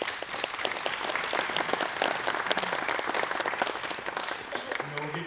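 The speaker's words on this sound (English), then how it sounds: "Can we give them a round of applause?" Audience applause for a panel at an economic and development forum, a steady patter of many hands clapping at moderate distance, with some voices faintly audible underneath.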